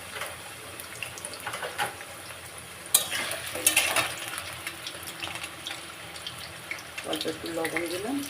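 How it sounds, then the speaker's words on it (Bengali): Potatoes frying in hot oil in a home kitchen while a chicken malai curry is being made, giving a steady sizzle with stirring clatter, a louder burst around the middle and running water in the background. "তেল গরম হয়ে গেছে। এবারে আলুগুলো দেবো।"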